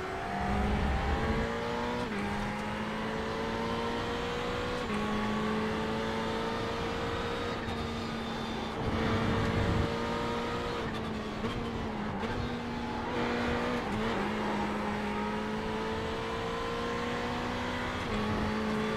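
A race car in the iRacing sim, driven on a Thrustmaster T-GT wheel, drones at a steady high engine pitch that steps down through gear shifts and climbs again, with occasional tire noise, loud and continuous without talk.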